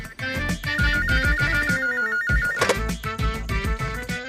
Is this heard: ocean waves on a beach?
no